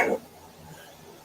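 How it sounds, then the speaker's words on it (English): A pet dog gives two brief barks indoors, one at the start and one at the very end, loud and close, with near silence between them. "My dog is barking."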